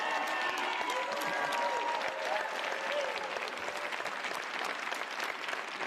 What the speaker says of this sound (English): Give them a real round of applause.